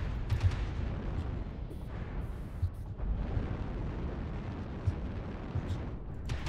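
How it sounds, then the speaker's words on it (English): Heavy artillery strike explosions in MechWarrior Online, a dense continuous rumble of booming blasts with sharper hits standing out near the start and toward the end. "Artillery strike online."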